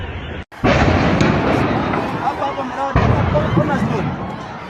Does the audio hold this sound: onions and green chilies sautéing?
no